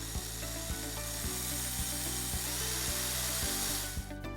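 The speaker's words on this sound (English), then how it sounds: "We're ready to take our drill with the 3/16 bit, and let's drill these holes." A power drill with a 3/16-inch bit whirs steadily through wood, with a regular clicking rhythm under the high motor whine, close and continuous before cutting off.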